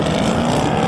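Two powerful pickup-style racing vehicles in a video game rev their engines together at the start line, a loud continuous droning roar with no pause.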